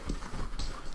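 A little dog pants close by in quick, rhythmic huffs, loud and breathy over a single second with no talking.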